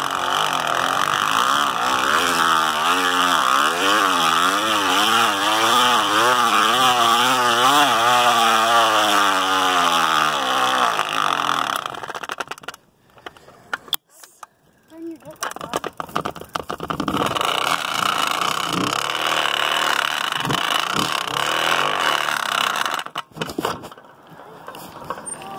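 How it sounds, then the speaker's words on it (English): A motorized bicycle engine tuned to sound like a two-stroke revs loudly and close, its pitch rising and falling in sweeping waves, then cuts out briefly before droning on again with rough, uneven bursts. "my bike is gonna sound like a two-stroke here in a second"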